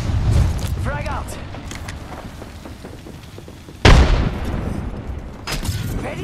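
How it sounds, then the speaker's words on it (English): Frag grenade blowing up in Apex Legends, one sharp loud blast with a brief rumbling tail, heard over busy game noise and distant shots. "Frag out!"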